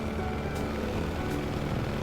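A small red propeller plane in an animated scene drones with a steady, buzzing engine hum and constant airscrew whir, moderately loud and unbroken throughout, with no voices.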